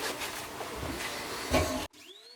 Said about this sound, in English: Now that vacuum setup works